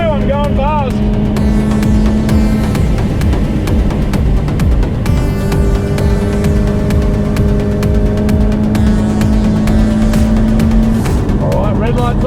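Subaru BRZ lapping a race track at speed, its engine droning loud and steady with rising and falling pitch as it revs through the gears, close up from inside the car, with a voice talking over it.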